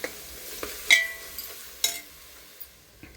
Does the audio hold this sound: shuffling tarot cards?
no